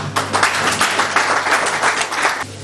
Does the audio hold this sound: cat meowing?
no